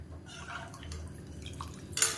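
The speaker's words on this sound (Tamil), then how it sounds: "இப்போ தண்ணி நல்லா கொதிக்க ஆரம்பிக்குது" Water beginning to boil in a cooking pot for a lentil and rice dish gives sparse, soft bubbling pops and drips, quiet and close, with a brief louder splash near the end.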